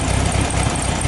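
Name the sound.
1971 Chevrolet Fuscão engine idling and misfiring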